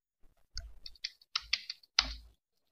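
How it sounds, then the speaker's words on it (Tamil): Computer keyboard typing on a PC, entering text in a Tamil font: several separate clusters of key clicks in an irregular rhythm, close and fairly quiet, with no voice. "இப்போ அதேமாதிரி நான் டைப் பண்ணி காட்டுறேன் பாருங்கள்."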